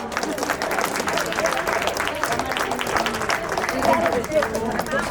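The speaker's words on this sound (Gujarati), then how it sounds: "દર્શનાબેન માટે ભાવનગર વાળા તો તાળી પાડો" An audience applauds at an honouring ceremony, a dense, fairly loud patter of many hands with voices talking over the clapping throughout.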